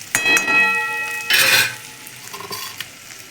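Stuffed okra sizzles as it is sautéed in a pan, with a spoon scraping and clinking against the metal in short bursts over a quiet frying hiss, no talking.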